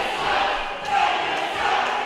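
A wrestling crowd at an RWA No Retreat show roars and cheers as a wrestler fires them up, a sustained wash of voices with brief louder swells.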